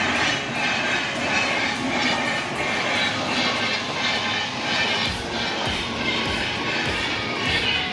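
A train rumbles past a closed railway level crossing near Paraj station in Bardhaman district, a loud, steady roar with rhythmic wheel clatter close by throughout.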